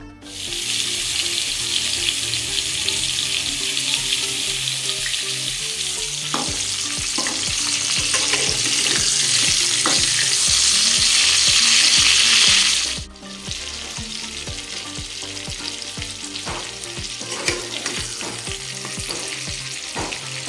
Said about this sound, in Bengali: সমস্ত পটলগুলো আমি এবার তেলের মধ্যে দিয়ে দিয়েছি আর আঁচটাকে একদম মিডিয়াম ফ্লেমে রেখেছিলাম